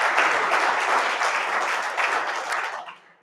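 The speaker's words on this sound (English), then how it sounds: "Another round of applause, please" Audience applause at the He Tipua conference after a talk on First Nations scholarships, a dense, steady wash of clapping from a seated crowd that holds for about three seconds, then fades out.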